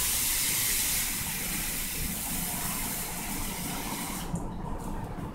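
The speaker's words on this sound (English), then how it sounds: "add some water" Water poured into a hot pan over a fire sets off a loud, steady hiss of steam that rushes on for several seconds and then eases slightly near the end.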